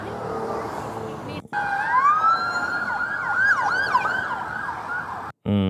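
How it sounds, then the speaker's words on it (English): Police car sirens blare loud and close, sweeping through rising and falling wails and then rapid yelping cycles, cutting off abruptly near the end. "Some of the police cars, okay."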